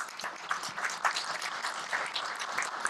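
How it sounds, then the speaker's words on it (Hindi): Loud, steady applause fills a church hall during a third-anniversary celebration at CIC Hayes Church, with dense overlapping claps and no voices. "पास्टर लाल के लिए जोरदार तालियां मारेंगे"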